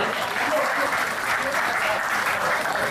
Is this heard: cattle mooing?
no